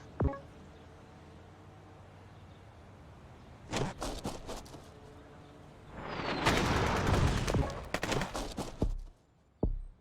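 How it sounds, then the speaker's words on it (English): Airstrikes and gunfire in the strategy game Rebel Inc, a mountain pass map: sharp bursts of cracks around four seconds, then a loud sustained rumbling barrage with more blasts, ending in a final distant thump. "Just wait for the airstrikes to come in."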